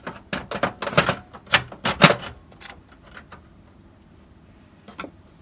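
Sharp clicks and taps of a screw being refitted into a Windows 98 computer case, a quick irregular burst of close metallic ticks that thins out to a few scattered knocks.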